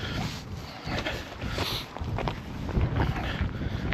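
Strong wind blows at the Fledborough Viaduct, an old railway viaduct above the flooded River Trent. Heavy gusts buffet the microphone in uneven, loud surges.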